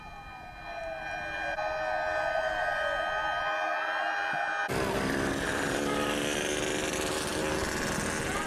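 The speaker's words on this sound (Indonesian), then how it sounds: "Pembunyian sirine dan penyalaan lampu merah lalu lintas dilakukan jelang detik-detik pembacaan teks proklamasi kemerdekaan Indonesia." Sirens wail across Sumatera Utara ahead of the reading of Indonesia's independence proclamation on 17 August 2020, a loud sustained tone that swells and then layers with more sirens, with no voices.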